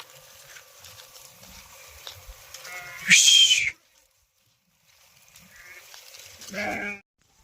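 Two loud sheep bleats ring out a few seconds apart, close by, over quiet background murmur and faint voices.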